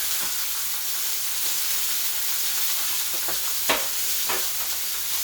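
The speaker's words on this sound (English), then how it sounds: "Skillet's hot, let's cook. Yeah, hear that?" Continuous bright sizzling of chicken frying in a hot skillet, with a few sharper pops and crackles breaking through the steady hiss.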